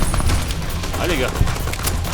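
Rapid bursts of gunfire from an enemy shooting at the player in Fallout: New Vegas, a dense, continuous fusillade that is loud and close throughout.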